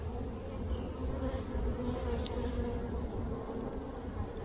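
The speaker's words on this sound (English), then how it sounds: "So many bees on here." Dense, steady humming buzz of honey bees swarming around an opened hive during an inspection, close and continuous with no talk.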